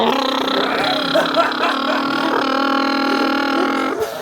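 A voice imitates a rumbling engine, a sustained buzzing drone held for several seconds, close and loud.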